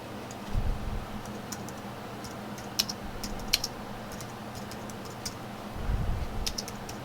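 Quiet typing on a computer keyboard as a title is entered, with scattered clusters of light key clicks over a soft background hum and a couple of faint low thumps.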